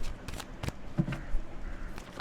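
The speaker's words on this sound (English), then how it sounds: "I'm gonna just shuffle again." A deck of tarot cards is shuffled by hand in several quick, close riffles and taps, with no talk over it.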